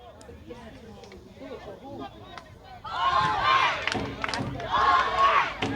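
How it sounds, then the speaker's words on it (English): Southern Vermont Storm fans cheer from their side of the bleachers at a football game against the Rhode Island Riptide, a loud crowd roar swelling in two surges over low chatter and an announcer's voice. "The Southern Vermont Storm side of the bleachers cheering, hold them."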